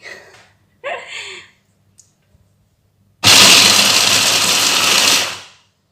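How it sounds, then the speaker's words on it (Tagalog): A countertop blender blending raw vegan cracker paste roars loudly and steadily for about two seconds, then winds down. Short, faint voice sounds come just before it starts. "Let's start to blend."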